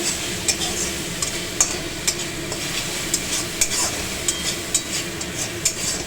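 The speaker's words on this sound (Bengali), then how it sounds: "মশলাটা কষা হোক, গ্যাসটা বাড়ানো আছে" Spice masala being sautéed on high gas for a bhola fish and coriander dish: a steady, dense sizzle close up, punctuated by regular ladle scrapes and taps against the pan, no voices.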